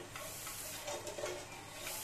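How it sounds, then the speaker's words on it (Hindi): Spoon stirring falooda mix into a pot as it is added bit by bit, a soft continuous scraping and swishing with faint liquid hiss, close and quiet, no talk. "थोड़ा थोड़ा डाल के हम चम्मच से चलाते जाएंगे।"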